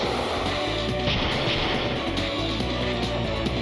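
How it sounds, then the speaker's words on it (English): Snow cannons exploding in the video game Legend of the Dragoon, a dense, loud barrage of booming blasts layered over continuous game noise, with no pause throughout. "The snow cannons do a lot of damage when they kamikaze."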